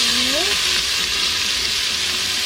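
Chopped onion sizzles and fries in a pot already holding spices, lentils, broth and tomatoes, making a steady bright hiss close by, with a brief stirring scrape at the start.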